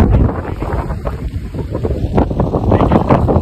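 Strong wind buffets the microphone in an open outdoor spot by a lakeside road, a loud, continuous low rumble with gusty surges that rise and fall throughout.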